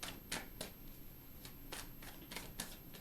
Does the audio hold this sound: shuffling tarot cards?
yes